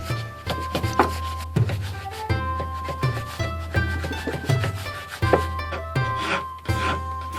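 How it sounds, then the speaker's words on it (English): A large chisel shapes wood for a Japanese tanto knife handle, giving a run of close, repeated scraping and thunking strokes in an irregular rhythm, loud and near with no talk. "I use a large chisel to shape the wood."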